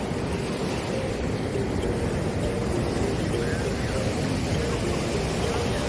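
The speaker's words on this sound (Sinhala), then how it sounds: "දෙපැත්තෙම රළ එනවා මුහුදු වතුර එනවා මුහුදු වතුර එකතු වෙනවා මේ දෙපැත්තෙම" Steady surf rolls in from both sides of a small island beach in Sri Lanka, a constant near wash of breaking waves and wind with a person talking over it.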